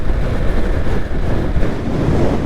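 Motorcycle riding through a water crossing on a cold mountain route to Kedarnath, a steady broadband rush of splashing water and wind noise, close and continuous without speech.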